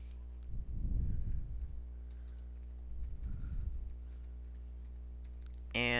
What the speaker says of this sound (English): let's type in Call of Duty Black Ops Zombies